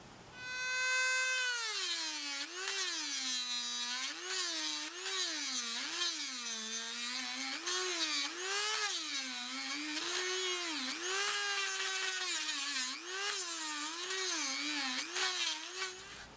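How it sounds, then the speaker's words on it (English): A Dremel rotary tool works on a screwdriver handle, giving a loud, steady high whine whose pitch rises and dips again and again as the bit loads and frees up, running alone for about fifteen seconds. "Looks like I got some Dremel work to do."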